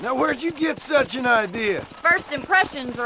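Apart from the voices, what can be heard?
No everyday noise stands out behind the speech.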